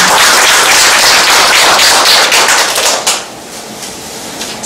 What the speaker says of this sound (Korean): 우리 유금열 학도사가 선생님에게 큰 박수 한번 보내주시기 바랍니다